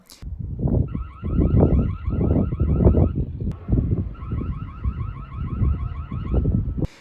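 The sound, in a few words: security camera alarm siren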